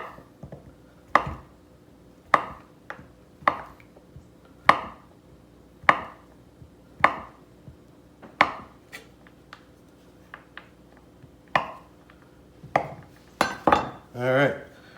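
A knife cutting a stick of butter into cubes on a board while making biscuits: sharp, irregular chopping taps with quiet pauses between, growing into a quicker cluster of cuts at the end.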